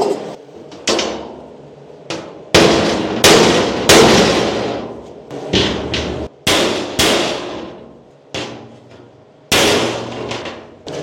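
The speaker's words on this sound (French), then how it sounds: "juste tu mets un coup de marteau et tac, elle se recale bien" Sharp hammer blows land on bent sheet metal of a jet boat hull under construction, a dozen or so loud clanging strikes in irregular bursts, each ringing and decaying briefly before the next.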